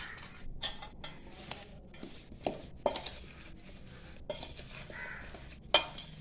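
Irregular scraping and clinking of a spoon stirring thick raw mango pickle with chili powder in a bowl, with soft wet mixing sounds and occasional sharper knocks.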